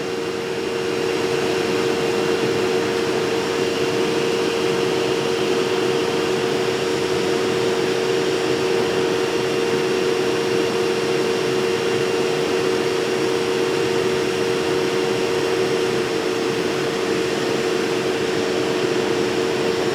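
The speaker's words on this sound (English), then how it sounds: "One of the compressors started, but which one?" A Secop compressor runs inside a Cooltronic 24V DC parking cooler air conditioner, producing a loud, steady, close hum with a constant tonal drone over broadband fan noise, with no talking.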